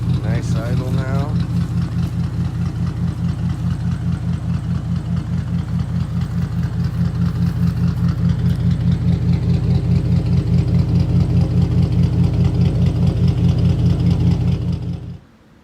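A turbocharged Lexus IS300 engine idling, a loud, steady low rumble with a regular pulsing beat that carries on for about fifteen seconds before cutting off.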